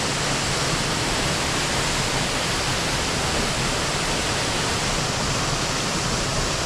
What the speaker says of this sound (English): this is Catterick Force waterfall at its best.